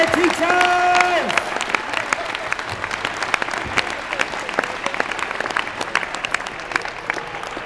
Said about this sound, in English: So how about you give your teachers a huge round of applause right now?